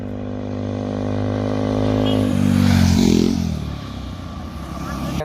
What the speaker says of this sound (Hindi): यहाँ पे फ्लाई बाय भी आप साउंड सुन लो कि किस तरीके से फ्लाई बाय साउंड जो है आ रहा है।